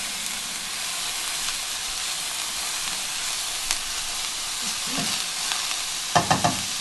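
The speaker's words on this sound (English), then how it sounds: "I'm just going to let that saute for a minute" Greens saute in a pan for a quiche, giving a steady close hiss of sizzling with a few light utensil taps and clatters near the end.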